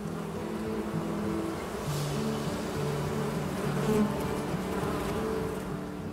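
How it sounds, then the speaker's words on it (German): Bees buzzing around beehives outdoors in the Lötschental valley on a sunny day, a dense, steady drone of many insects close by with faint background hum throughout. "Die Bienen, die haben die Sonne auch lieber. Die fliegen auch besser, wenn es schön ist."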